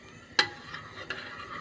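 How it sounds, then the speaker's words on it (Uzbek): Homemade ketchup being stirred in a pot, a sharp scrape of a spoon followed by softer clinks and a second knock, with a faint simmering hiss underneath. "Mana endi aralashtirib olamiz"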